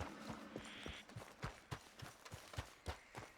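Horse hooves clip-clop in Red Dead Redemption 2, a steady rhythmic series of about a dozen muffled thuds at a trotting pace, fairly quiet and close.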